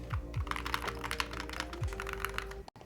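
Rapid typing on a Holy60 keyboard with Awekeys metal keycaps clicks and clacks closely in a quick, uneven rhythm, with a slightly metallic ring to the keystrokes and a faint background hum.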